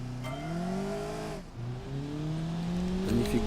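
A car drifting in drift mode in BeamNG.drive: a loud, sustained engine drone with rising and falling revs, a brief dip in the middle, then the engine climbing again with tire squeal near the end.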